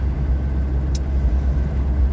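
Polonez Caro car running on LPG, a steady low engine rumble and road noise heard from inside, continuous and fairly loud with no talk.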